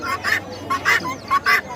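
Chickens at a poultry market in Dhaperhat, Bogura, clucking in a quick series of about five loud, short, throaty calls, grouped in bursts with brief gaps between them.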